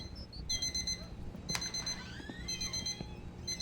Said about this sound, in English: We woke up before the alarm and I didn't shut it off